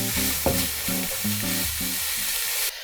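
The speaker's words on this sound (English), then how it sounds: "we're going to go ahead and crisp up this bacon" Bacon crisping in a Ninja Cooking System pan, with a steady frying sizzle under recurring stirring scrapes and a brief clatter near the start, before the sizzle abruptly drops away at the end.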